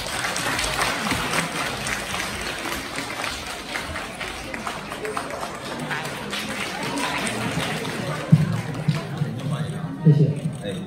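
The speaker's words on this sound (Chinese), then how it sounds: "感谢大家热情的掌声" Theatre audience at a xiangsheng comedy show applauding warmly, dense continuous clapping filling the hall with crowd voices mixed in, loud throughout and tapering slightly near the end.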